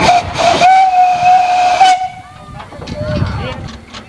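Steam whistle on an old steam-powered farm threshing engine gives a loud, sustained high-pitched blast lasting about two seconds over hiss, then cuts off, leaving quieter steam hiss and mechanical noise.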